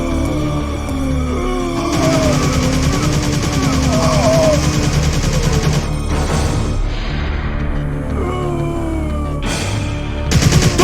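Gunfire from Resident Evil 3 gameplay: repeated shots aimed at an explosive barrel kicked toward a horde, ringing out amid dense game music and effects, with a game voice briefly heard.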